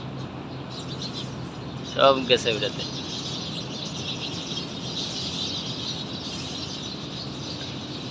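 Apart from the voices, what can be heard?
many birds chirping at night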